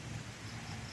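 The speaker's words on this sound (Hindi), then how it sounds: "देखिए बारिश हो रही है" Steady rain falling outdoors during a prolonged spell of bad weather, a dense even hiss with a low rumble underneath, continuous and fairly faint with no voices.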